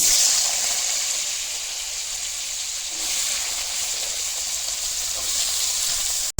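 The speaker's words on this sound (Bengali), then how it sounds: "একই তেলের মধ্যে ডেঙ্গাটা দিয়ে দিলাম।" Amaranth stalks added to hot oil in a pan give a loud, bright, continuous sizzle and hiss, close up and steady, cut off sharply at the end with no talking.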